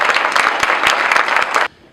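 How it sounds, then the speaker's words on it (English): An audience at a celebration event bursts into dense, steady applause for about a second and a half, loud and close, then it cuts off abruptly. "Let's give them a round of applause."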